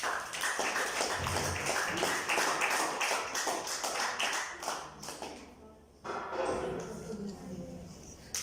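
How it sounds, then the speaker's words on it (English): Applause at a club relaunch event: dense, fast clapping from an audience that rises and falls for about six seconds, briefly dips, then resumes, with voices talking over it. "let us give them a big round of applause"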